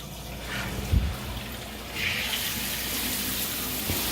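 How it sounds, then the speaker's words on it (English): A hotel room shower runs at the 21c Museum Hotel in Lexington, Kentucky, a steady close hiss of spraying water with a brief knock of the handle and a shift as the flow changes. "You turn this, and then you turn this to activate the shower."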